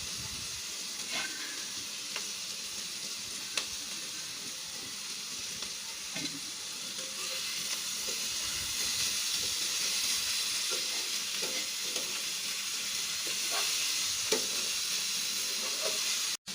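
Bitter gourd with sliced green chilies sizzles steadily in a pan, a constant hissing fry with occasional soft stirring clicks, close and alone without talk.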